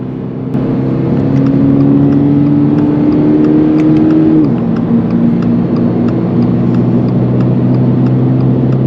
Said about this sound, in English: it's a little boxer engine, but my goodness is it snappy